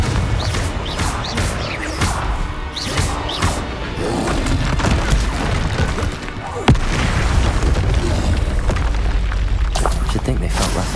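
Confringo spell blasts explode in Hogwarts Legacy amid combat, with repeated booms, crashes and thuds over a busy game mix and a sharp hit a little past the midpoint.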